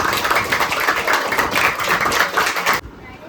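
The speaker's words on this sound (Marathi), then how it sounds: "जर जोरात टाळ्या वाजवा" An audience at a tuition-class gathering claps loudly, a dense, sustained patter of many hands close by that cuts off abruptly near the end, leaving quiet.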